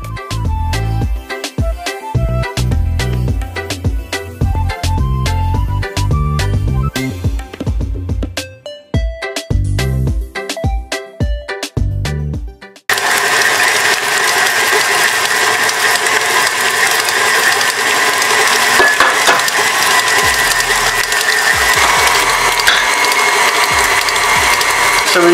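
Butter and sugar being mixed for a Guyanese-style Christmas sponge cake: sharp ratcheting mechanical clicks at first, then a loud, steady whirring drone that carries on alone until the end.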